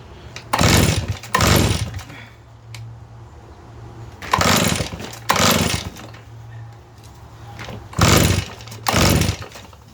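A Redmax EBZ8500 backpack blower with its choke open fires in short, loud sputtering bursts, usually in pairs, with low idle gaps between them, very close.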